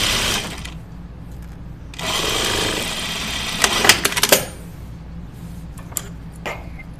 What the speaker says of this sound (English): We'll get a nice quick seam here. I never really get to sew flat out on this machine.